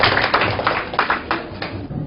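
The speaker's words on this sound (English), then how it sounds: "So if you could just give him a warm round of applause" Audience applause for a guest speaker at a religion talk, a steady dense patter of many hands clapping at moderate volume, continuous throughout with no voices.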